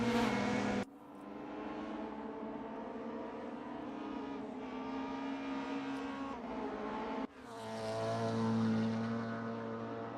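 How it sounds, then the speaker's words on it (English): Honda race car from a sim racing game at Sepang North blasting past, a loud sustained engine roar with steady harmonic exhaust note, a brief dip and then a rising swell as it passes close by. "that Honda does sound nice though when it blasts past"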